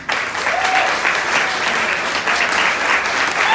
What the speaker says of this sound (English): Let's keep that applause going right now.